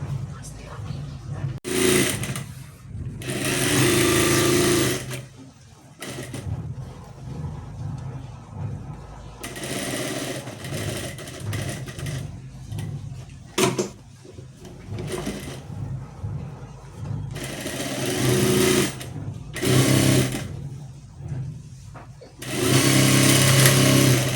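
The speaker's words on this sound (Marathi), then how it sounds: "आता याला स्टिच करून घेऊयात." A sewing machine stitches the lining of a blouse back neck in several runs, its whirring motor starting and stopping between pauses, loud and close, with someone talking in between.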